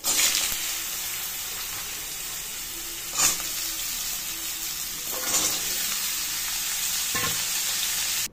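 Pumpkin slices fry in a pan with a steady, loud broadband sizzle throughout, broken by a few brief scraping clicks from a spatula around the middle and near the end; no voices.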